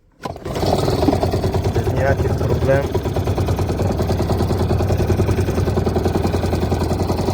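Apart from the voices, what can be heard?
outboard boat motor starting and running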